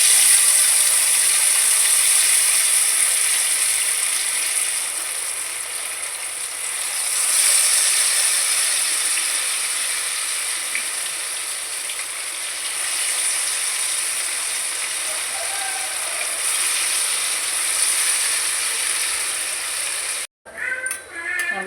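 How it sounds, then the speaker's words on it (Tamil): Cauliflower pieces for a gobi chilli fry drop into well-heated, bubbling oil, giving a steady, bright sizzling hiss that carries on unbroken until a brief cut near the end. "நல்லா எண்ணெய் நல்லா பாயில் ஆகிடுச்சு. இப்போ நம்ம காலிஃப்ளவர் கொஞ்சம் கொஞ்சமாக ஆட் பண்ணிக்கலாம்."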